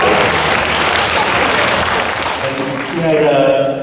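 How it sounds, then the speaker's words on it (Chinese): Loud, dense applause from a school graduation ceremony audience welcoming the principal, sustained throughout and briefly swelling near the end, with voices and cheers mixed in. "热烈掌声欢迎方校长"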